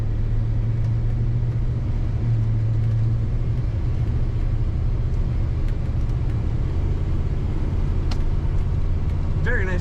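A 1978 Chevrolet Silverado K10 pickup engine idles with a loud, steady low rumble throughout, heard from inside the cab.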